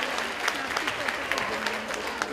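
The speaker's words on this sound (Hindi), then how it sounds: "कृपया एक बार तालियां बजाकर एक बार पुनः इनका धन्यवाद" An audience applauds steadily at a Ramleela and Dussehra celebration, with dense continuous clapping and a few sharper claps standing out.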